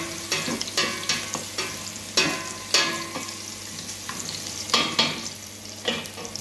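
Garlic fries in a pan with a constant sizzle while a utensil stirs and scrapes in repeated bursts, no talking.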